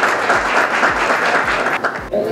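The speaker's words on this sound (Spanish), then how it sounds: "Vamos a darle un aplauso a Glenny." An audience applauds at a sports awards event, a dense steady patter of clapping that fills the room with some low thumps underneath. Toward the end it shifts slightly as a voice starts to come through.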